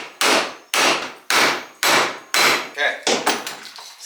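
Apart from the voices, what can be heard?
hammer driving a piece onto a railroad spike tomahawk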